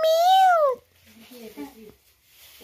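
A cat gives one loud, close, rising-and-falling meow at home while tea is being made, followed by quieter talk.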